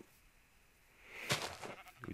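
Sheep bleating in a video game, a short nasal bleat arriving after a second of quiet, followed by a couple of fainter bleats, moderately close with no talk over it.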